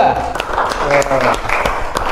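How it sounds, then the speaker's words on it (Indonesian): A classroom of primary school children claps for a student group after its presentation, a short burst of scattered hands mixed with chatter and voices. "beri tepuk tangan untuk kelompok 2"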